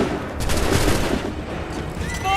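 Musket volley fire in an Assassin's Creed 3 battle, a dense burst of overlapping gunshots rolling out loud and close, with shouting voices underneath and a faint high whistle near the end.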